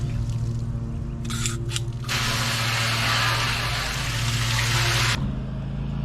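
A steady hiss of water spraying hard against the metal basket of a honey extractor, rinsing out wax bits, runs for several seconds, preceded by a couple of short spurts, over a constant low motor hum.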